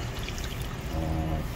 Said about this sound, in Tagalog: lagyan na natin tubig